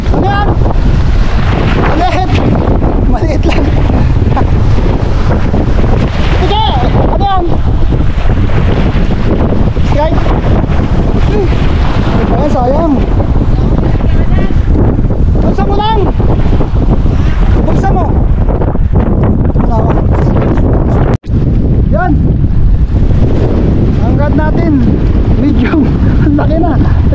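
Strong wind buffets the microphone with a constant roar over water and fishing boat noise, while voices talk intermittently underneath.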